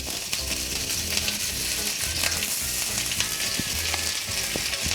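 Ginger and garlic frying in oil in a hot kadai, a steady close crackling sizzle with scattered pops and occasional stirring clinks throughout.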